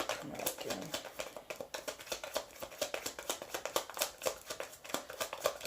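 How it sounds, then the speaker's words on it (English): Tarot cards being shuffled by hand, a steady run of quick papery riffles and soft slaps repeating close to the listener, with no talking over them. "When I shuffle, if you're not a fan of that"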